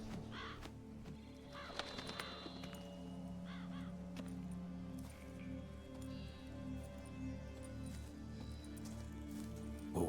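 Ravens caw in a flock within the game world of The Witcher 3: Blood and Wine, several harsh calls rising over steady ambient music and background sound.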